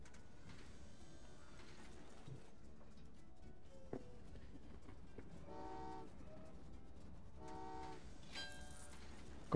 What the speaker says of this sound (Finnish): Koko ajan junat liikkuu.